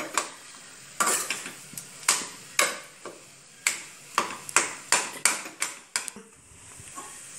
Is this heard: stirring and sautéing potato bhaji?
yes